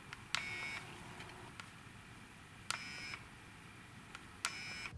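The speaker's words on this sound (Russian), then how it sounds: "После нажатия кнопки спуска затвора слышно кратковременное жужжание." Three faint, short electronic buzzes sound at spaced intervals, each starting with a sharp shutter click, against near silence, from a faulty Nikon D90 DSLR camera.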